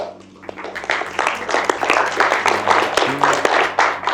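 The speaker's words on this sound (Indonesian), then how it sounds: "Tepuk tangan untuk Mas Bar" Classmates clap for a student in a classroom, a dense burst of many hands lasting several seconds at steady, fairly close loudness.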